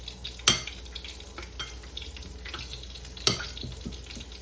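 Steady crackling sizzle of chicken legs frying in hot oil, with two sharp clanks of a utensil against the pan.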